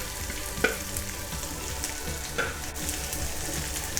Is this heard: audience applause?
no